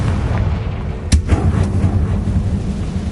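A Confringo spell explodes in the video game Hogwarts Legacy: a single sharp, booming burst about a second in that rings out briefly over a steady low game ambience.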